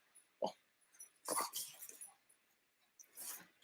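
A dog plays with a biscuit indoors, making a few quiet separate bursts of snuffling, tossing and scrabbling noises in a still room with no talking.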